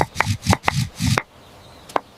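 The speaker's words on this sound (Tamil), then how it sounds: "கல்யாண முருங்கை இலையோட மிளகு, பூண்டு வச்சு நல்லா நசுக்கிக்கணும்." Kalyana murungai leaves are pounded with black pepper and garlic for rasam: five heavy, rhythmic thuds in quick succession, a short quiet pause, then one more strike.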